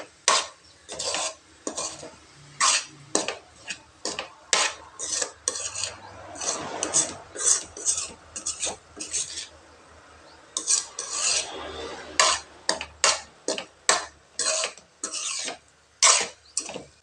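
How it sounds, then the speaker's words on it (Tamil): A spoon scrapes and stirs egg pepper podimas in a pan, with repeated rasping strokes in an irregular rhythm, close and fairly loud, with short pauses between bursts. "நல்லா கிளறி விட்டுக்கலாம்"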